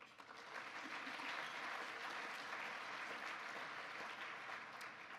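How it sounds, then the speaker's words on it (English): An audience at a talk on women, sports and principled leadership claps in a sustained, dense round of applause, steady and moderately distant, with no voices over it. "Please give them a round of applause."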